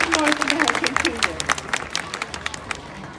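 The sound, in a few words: audience applause for the cougar show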